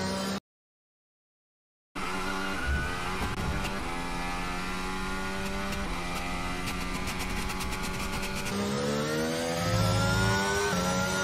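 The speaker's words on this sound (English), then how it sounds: "I'm going to give you a listen of what the real life McLaren sounds like right here now" A real-life McLaren Formula 1 race car engine screams continuously, its pitch climbing steadily through upshifts as the car accelerates, loud and close, after a short silent gap at the start.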